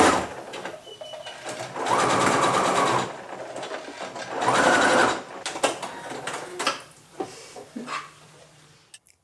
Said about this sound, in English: we're going to stitch all the way along the edge here with a 1 centimeter seam allowance to attach the ruffle